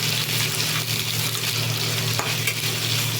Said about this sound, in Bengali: এবার দিয়ে দিলাম এই যে ফুলকপি, গাজর আর হচ্ছে বিনস, একটু নেড়ে নেব